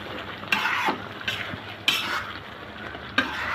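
A spatula stirs liver bhuna with cumin in a wok, the oil sizzling softly; four distinct scraping strokes sound close up against a steady frying hiss.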